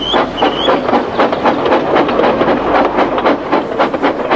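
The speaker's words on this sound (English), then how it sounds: "James was able to pull the train." A train in the Trainz railway simulation game, loud rhythmic clickety-clack of wheels over rail joints repeating steadily, with a short high whistle-like tone near the start.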